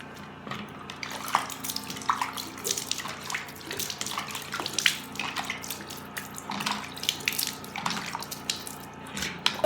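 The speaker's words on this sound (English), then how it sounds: "you have to use a toilet soap to wash your face" Water splashing and running during face washing with toilet soap, a steady wet rush broken by dense irregular splashes and drips at close range, with no talk.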